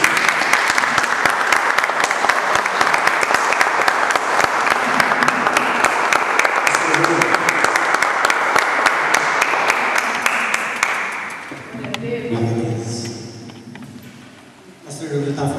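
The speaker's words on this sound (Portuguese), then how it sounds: "Vamos aplaudir a Jesus" Sustained loud applause from a church congregation during a worship service, steady dense clapping that fades after about twelve seconds into talking and singing voices.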